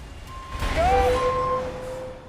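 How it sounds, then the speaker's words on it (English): A refuse truck backing up to a sea wall sounds its reversing alarm: several loud, close electronic beeps at a steady pitch over a low engine rumble, with a brief burst of noise near the start. "one of the refuse trucks as it backs up to the sea wall until its rear end is hanging over the edge"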